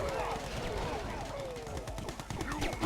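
Rapid gunfire bursts from units in the strategy game Yuri's Revenge, dense and continuous across the whole stretch, with battle noise layered over constant sound and speech present.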